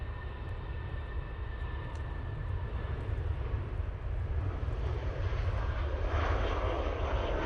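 An Airbus A319 airliner departs Manchester Airport, its jet engines producing a steady, powerful roar that builds gradually as it passes at moderate distance, with no talking.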